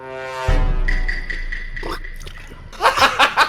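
Water splashes in the Bintacan river, a few loud, rhythmic bursts near the end following a steady tone and quieter stretches, with faint voices and laughter nearby.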